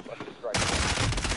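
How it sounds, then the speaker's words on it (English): Video game gunfire erupts abruptly after a quieter moment, a loud, dense burst of rapid shots that continues to the end. "Oh, I'm being shot at."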